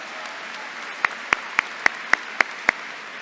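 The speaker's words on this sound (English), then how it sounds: "How about a round of applause for them as well?" A handful of sharp, evenly spaced claps ring out at a 2015 Whitehall High School graduation, greeting the assistant principals. The sparse claps follow one another in a steady rhythm over a quiet hall.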